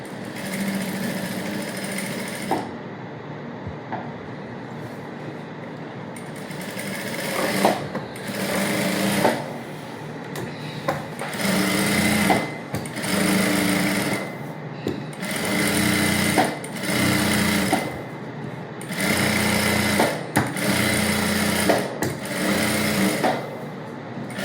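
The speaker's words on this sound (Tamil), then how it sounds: "இப்போ நம்ம சுற்றி ஒரு தையல் போட்டுக்கலாம்" Around a princess-cut blouse, a sewing machine whirs loudly in repeated short runs, roughly eight bursts with brief pauses between them, close and alone.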